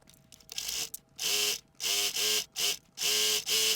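A sewing machine stitches fabric for a scrunchie in a string of loud, close bursts of whirring, each around half a second long and separated by short pauses, with no talking.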